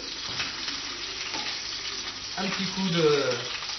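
Duck breast (magret de canard) searing briefly in a hot frying pan, a steady close sizzle that swells louder partway through, with a faint voice under it.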